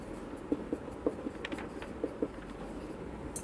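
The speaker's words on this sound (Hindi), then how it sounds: "तो आप एवरेज प्रॉफिट लिख देंगे।" Pen on paper writes out average profit figures by hand, with soft, scattered scratching strokes and small taps, close and quiet.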